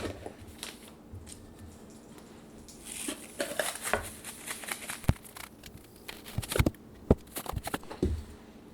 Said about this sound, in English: we're going to stir the salt and flour together